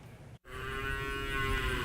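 A cow moos in a long, loud, drawn-out bellow at a ranch in Okeechobee County where rescued cattle were herded home after flooding. The call is close and comes right after a brief gap.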